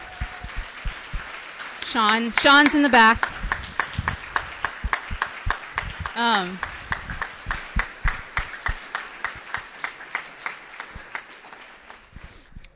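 Applause for staff at a weekly campus Cru meeting: many hands clapping through the room, thinning toward scattered claps, with voices and a short spoken remark over the clapping.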